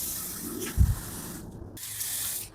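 Water sprays from a garden hose in a home garden in winter, a soft steady hiss throughout with a brief low thump near the start and a short break in the spray.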